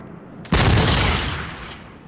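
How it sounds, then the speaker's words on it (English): After a brief quiet, a single loud video game gunshot from Until Dawn bursts out and its echoing tail fades away slowly over the next second and a half. "The gunshot that notifies everyone I'm here."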